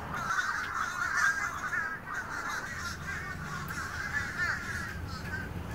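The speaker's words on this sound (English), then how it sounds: "When we arrived, there were dozens of crows in this old oak tree." Dozens of crows caw from an old oak tree in a steady chorus of overlapping harsh calls, fairly close and continuous throughout.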